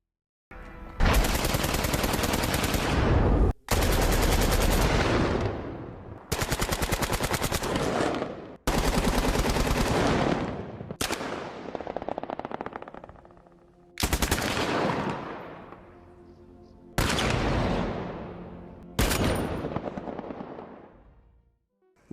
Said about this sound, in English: What you just saw was Embark Studios recording the audio for the guns.